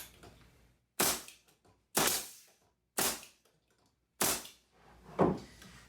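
A nail gun fires 16 gauge 2-inch nails into wood in five sharp, close pops about a second apart, each followed by a brief mechanical rattle.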